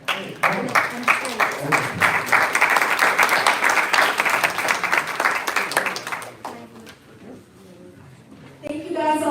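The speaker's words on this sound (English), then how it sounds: "Round of applause." Audience applause closing a university session, with close, distinct handclaps that fill the first six seconds, then thin out and fade into quieter room noise and a voice at the end.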